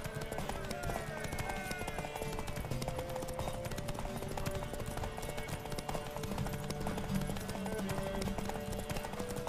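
Roach, a horse in The Witcher 3, gallops in steady, rapid hoofbeats through a dense game soundscape with music, continuing without a break the whole time.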